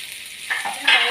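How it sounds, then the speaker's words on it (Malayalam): Garlic and then curry leaves sizzle in hot oil in a frying pan, with a close, steady hiss that swells louder as each new ingredient is added. "അപ്പം തന്നെ നമുക്ക് ഈ വെളുത്തുള്ളി ഇട്ട് കൊടുക്കാം. പിന്നെ നമുക്ക് ഈ കറിവേപ്പില ഇട്ട് കൊടുക്കാം."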